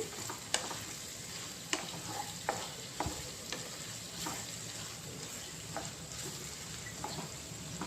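Ivy gourd with ginger fries in a pan with a soft, steady sizzle, while a spatula stirs and taps against the metal in scattered clinks, quiet and close.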